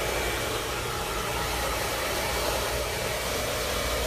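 Close, constant roar of an Arrojo Twin Turbo Power Lux Motor hair dryer blasting medium-length hair, a dense airy hiss over a low motor drone, unbroken from start to finish.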